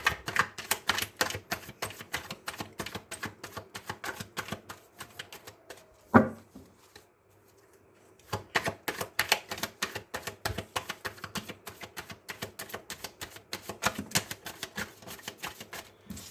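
Tarot cards shuffled by hand give a dense run of rapid papery clicks and flaps, broken by a sharp knock and a brief pause before the quick shuffling resumes, with no talking.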